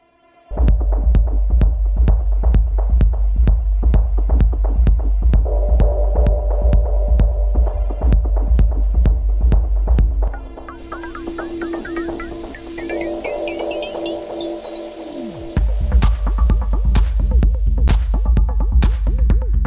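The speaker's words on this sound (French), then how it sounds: "cette petite boucle de noise, on va pouvoir justement jouer un petit peu avec ça pour créer de la texture et de la tension" Techno ambience loop built in Ableton Live, a pounding regular kick pulse over droning noise texture with automated sweeps and chirping shifted tones, dropping out midway before the beat returns, loud and with no talk.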